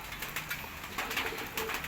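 A small flock of six pigeons cooing nearby, soft low repeated coos in an uneven rhythm over quiet background, with no speech.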